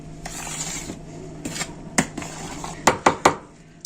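Flour, sugar and salt are stirred in a bowl, with soft scraping and a few sharp clinks of a spoon against the dish that come quicker toward the end.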